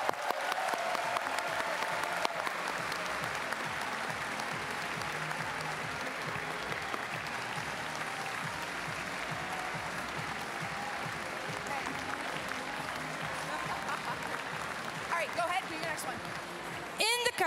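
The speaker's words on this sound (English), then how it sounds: "So a big cheer for the team." Sustained audience applause and cheering for a robotics team at a FIRST Tech Challenge European event, a dense, steady roar of many hands clapping that holds for the whole stretch, with a few brief whistles near the end.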